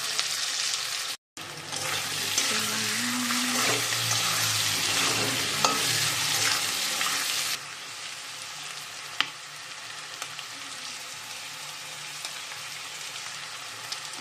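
Potatoes and a spice masala frying in oil, a steady close hissing sizzle with intermittent stirring scrapes, briefly cutting out early and settling quieter in the second half, no talking.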